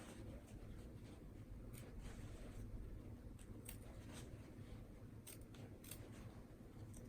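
Scissors trimming fabric seam allowance on a sewn skirt, a run of faint, closely spaced snipping clicks over a low steady background hum.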